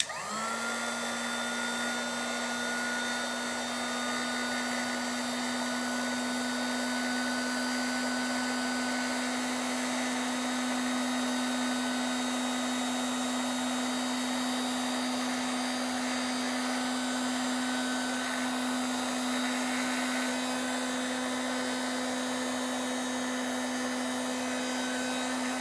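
A mini heat gun runs on its low setting, shrinking solder seal connectors and heat shrink tubing. It gives a steady, close, even hum with a high whine, continuous and unchanging throughout, with no voices.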